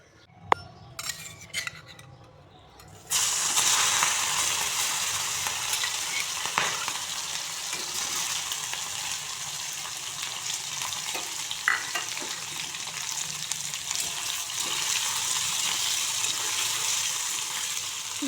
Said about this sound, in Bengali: প্রথমেই আমি মাছগুলোকে ভেজে নিচ্ছি। রান্নাটা আমি সরিষার তেল দিয়ে করছি।